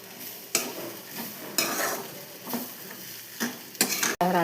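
Chopped green beans and grated coconut stirred in a hot pan, a steady sizzle broken by several scraping strokes of a spoon, close and fairly loud with no talking.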